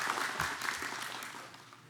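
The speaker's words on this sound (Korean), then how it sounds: "일어나시면 박수로 환영하도록 하겠습니다." A church congregation applauds in welcome during a Sunday worship service, a brief burst of dense clapping close by that tapers off toward the end.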